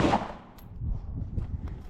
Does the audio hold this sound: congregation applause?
no